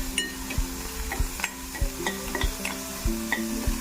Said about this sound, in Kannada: ಇದನ್ನು ಗೋವಿನ ಜೋಳ ಬಾಡಿಸ್ಕೊಂಡು